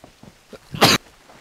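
A single sharp, close human sneeze bursts out after a few faint breaths and small noises, loud and brief, with quiet background on either side.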